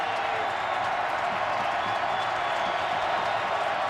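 Stadium crowd at an NFL playoff game between the Indianapolis Colts and Baltimore Ravens, a dense, steady roar that holds loud and unbroken throughout, with no clear individual voices standing out.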